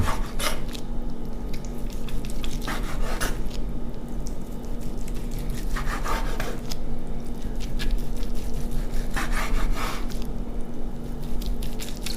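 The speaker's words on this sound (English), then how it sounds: "Alright, that chuck roast is done. Slice into it." A knife slicing through a tender smoked beef chuck roast, heard as several short, moist squishing cuts spread across a steady background hum, with no talk.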